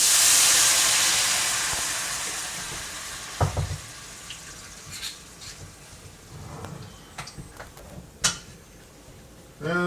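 A hot steak pan full of fat and caramelized vegetables is deglazed, giving a fading hiss of sizzling steam with scattered pops and clinks of utensils against the pan, fairly quiet overall.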